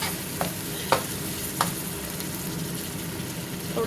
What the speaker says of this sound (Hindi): इसमें डाल दिए हैं खड़े मसाले, तो थोड़ा सा भुनेंगे। लहसुन अदरक का पेस्ट भी डाल दिए